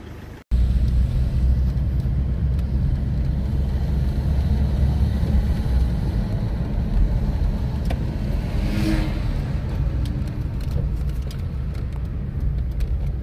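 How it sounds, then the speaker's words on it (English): A car drives through the city of Bath, its engine and road noise a steady, loud, close rumble throughout with no talk. "Just driving around our city"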